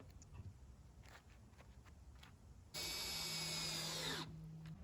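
A power drill drives screws through washers to fasten casters onto a homemade lawn and garden toolbox, a steady whirring burst of about one and a half seconds after quiet handling noises.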